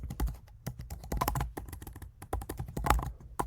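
Fingers type on a computer keyboard nearby, with a quick, irregular run of crisp key clicks and occasional heavier strokes and pauses, and no voices.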